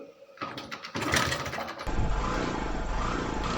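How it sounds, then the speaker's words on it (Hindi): A Hero Passion Pro BS6 FI motorcycle with an unsteady RPM fault is kick-started with a few quick strokes, catches with a burst, then settles into a close, steady idle. "और ऑन करने के बाद इस बाइक को मैं किक से स्टार्ट कर लेता हूँ।"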